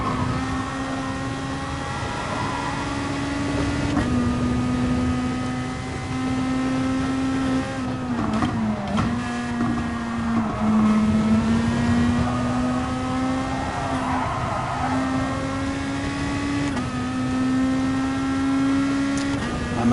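Race cars in the video game GT Sport whine steadily through a race, with a continuous engine tone rising and dropping through gear changes at moderate level.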